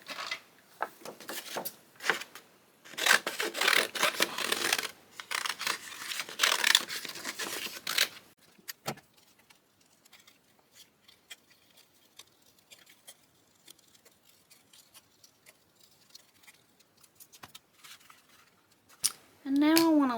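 Scissors fussy-cut a stamped paper piece for a crafting page, with bursts of crisp snipping and rustling paper, then quieter scattered snips and handling sounds, and a short voice near the end.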